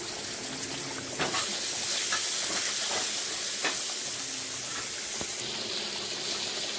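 Dried chilli and five-spice frying in hot oil give a steady, close sizzle with soft hissing and occasional stirring clicks throughout.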